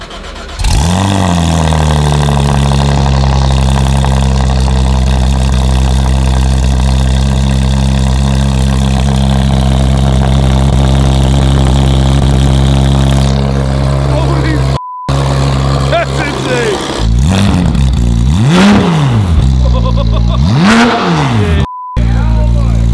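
Porsche GT3 fitted with a new exhaust, starting up and idling loudly up close, then revved repeatedly in sharp rising and falling bursts, with voices faintly present.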